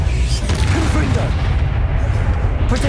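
Booming fire-blast explosion from the Confringo spell in Hogwarts Legacy, a heavy, sustained low rumble that fills the scene loudly and continuously, with game combat noise layered over it.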